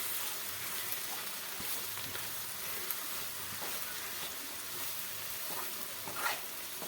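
Ivy gourd pieces stirred with turmeric and spices in a hot pan, a steady soft sizzle and frying hiss with faint scraping stirs throughout, no talking.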